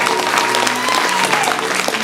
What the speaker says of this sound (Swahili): kama unanielewa, muongezee Yesu makofi